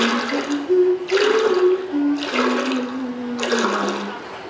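Water gushing and splashing in bursts, loud and close, roughly four surges with a sustained hum beneath, while water is wasted.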